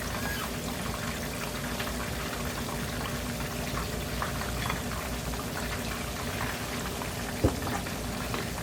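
Chapati-wrapped chicken pieces sizzling in hot oil, a steady dense crackle and hiss throughout with one brief sharp pop near the end.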